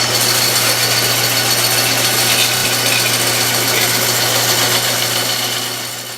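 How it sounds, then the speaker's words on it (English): A bandsaw cuts freehand through 25 mm insulation foam, giving a steady, loud rasping whine over a constant motor hum that fades slightly at the end. "Okay, I'm going to start cutting this out on the bandsaw."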